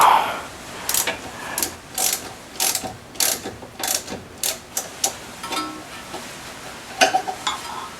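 A socket ratchet clicks in short bursts while loosening a 12 mm bolt on the front strut of a 1997–2001 Toyota Camry, close up and repeated about a dozen times with brief pauses.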